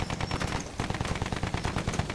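Rapid automatic gunfire in Battlefield 1 aimed at an enemy fighter plane, a dense continuous stream of shots with steady rhythm throughout, loud and close, with no talk.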